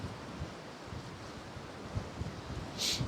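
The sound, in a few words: strong wind while flying FPV drone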